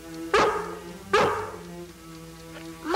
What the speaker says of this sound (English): the only way she'll answer you is by barking back